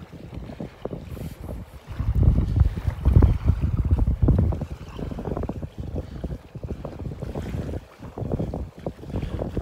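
Strong wind buffets the microphone on a quiet North Naples, Florida beach, roaring in heavy gusts with surf faintly beneath, no voices.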